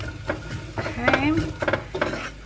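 Vegetables with mushrooms saute in a hot pan with soft sizzling, while a utensil scrapes and stirs them in short bursts.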